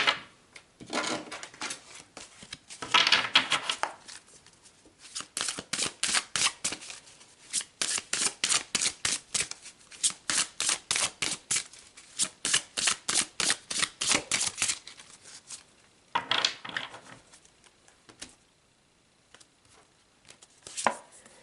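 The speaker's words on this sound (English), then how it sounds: "let's pull some more cards." Tarot cards being shuffled, a long run of rapid riffling flutters in quick bursts with short pauses, close and fairly loud, then a few slower draws and slides of cards near the end.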